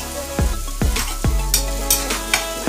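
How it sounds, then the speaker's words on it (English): Seasoned potatoes sizzle and fry in a pan while being stirred, with a loud steady sizzle broken by several scraping stir strokes spaced about half a second apart. "Give it a stir."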